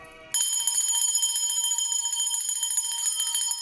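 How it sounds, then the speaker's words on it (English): A bell rung once in a spiritual setting, its bright metallic strike ringing out suddenly and then sustaining with a steady shimmering resonance, close and loud, with no talking. "So I'm also going to ring the bell for that."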